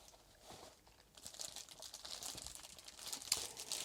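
Plastic bag crinkling while unboxing a Pentax DA HD 55-300 ED WR zoom lens, a steady run of close, dry rustles and crackles with a sharper crunch near the end, no talk.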